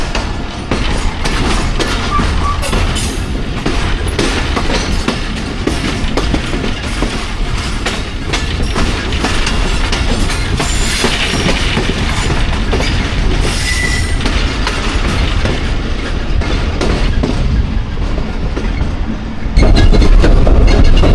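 The 130 Down Thal Express runs on the railway line near Daud Khel, a loud, steady rumble of wheels and clattering carriages with rhythmic clickety-clack and occasional squeal, close and continuous throughout.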